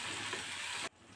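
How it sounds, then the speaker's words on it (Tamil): Close, dense sizzling of a tempering of curry leaves and coriander frying in hot oil for cabbage and moong dal sambar, crackling steadily before stopping sharply, with no voices. "கருவேப்பிலை போட்டுக்கோங்க. அது நல்லா கரிஞ்சு போயிடாமல் பச்சை நிறம் மாறாமல் அப்படி கலந்து எடுத்துக்கோங்க."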